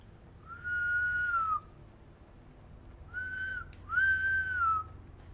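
Two bouts of clear melodic whistling in Skyrim: one long sustained note, a pause, then two shorter rising-falling whistles, over a low steady hum.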